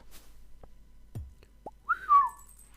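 A melodic whistle in the Stardew Valley video game: a short rising-then-falling whistled phrase near the end, clear and fairly loud, preceded by a few faint clicks and soft game sounds, with no talking.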